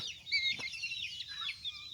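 Chickens cluck and chatter in a busy, overlapping flurry, close and moderately loud, with no talk over them.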